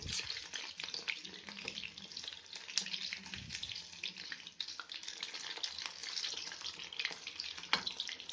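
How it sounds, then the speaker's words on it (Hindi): Chicken lollipops sizzle steadily in hot oil, producing a continuous bright crackling hiss with scattered pops throughout. The sound is fairly faint and close, and no one speaks. "तो अब हम इसको फ्राई कर लेते हैं। मैं थोड़ा ही आपको तल के दिखा देती हूँ।"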